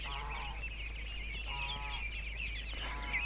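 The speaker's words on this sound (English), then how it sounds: "Oh, ducks." Ducks honk and quack in a few repeated nasal calls at moderate distance, alone without talk, over a steady low hum outdoors in a yard near dusk.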